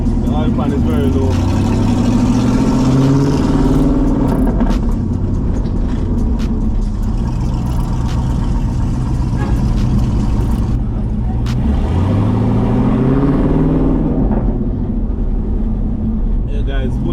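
A car with a very low-slung oil pan drives along, its engine droning steadily and then rising in pitch as it accelerates, loud and close inside the cabin while someone talks over it.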